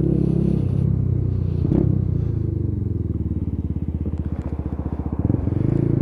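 A Lexmoto Tempest GT125 motorcycle engine on the move, a close, steady single-cylinder chug that rises and falls with the throttle, heard from the rider's position with wind rumble.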